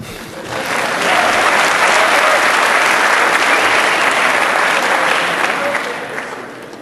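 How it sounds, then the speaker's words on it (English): An audience at a lockpicking and physical security workshop at a hacker congress in Berlin breaks into loud, sustained applause. It swells quickly and holds for several seconds, then fades. "Give him an applause."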